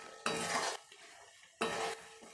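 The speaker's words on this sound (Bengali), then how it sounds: "আবার সমস্ত মশলাগুলো আমি একটু নেড়ে নেব।" Spices being stirred in a cooking pot for a village-style bhetki fish bone dish: two short bursts of scraping and clinking of a spoon against the pot, separated by a quieter pause with faint sizzling.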